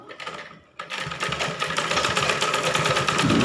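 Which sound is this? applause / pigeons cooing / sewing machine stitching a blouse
sewing machine stitching a blouse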